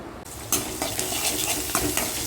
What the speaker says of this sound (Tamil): கொத்தவரங்காய் வறுத்துக்கலாம்